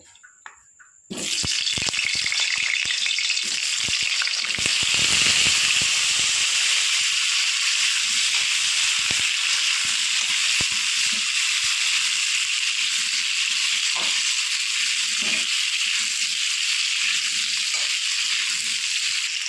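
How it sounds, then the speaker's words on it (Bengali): Sliced potatoes frying in hot oil, a sudden loud broadband sizzle that begins after a second and then holds steady and strong, with small crackles and pops scattered through it. "আলুগুলো লাল করে ভেজে নেব"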